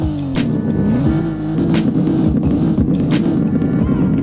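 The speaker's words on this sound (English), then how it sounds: "Here's how the V12 sounds." An Aston Martin V12 engine drones steadily and close, its rumble climbing and dipping as the throttle is worked, with a few sharper revving bursts and some wind buffeting over the top.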